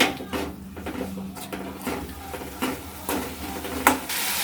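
Repeated scraping and clinking of a utensil stirring tomato chutney in a pan, irregular strokes with occasional sharper metallic knocks, close and fairly loud.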